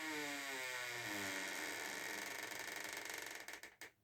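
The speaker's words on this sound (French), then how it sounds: "la porte qui fait un bruit de merde" A noisy door creaks in a long, grinding, ratcheting groan that stretches over several seconds, then breaks into a few shorter clicks and knocks as it settles, close and alone.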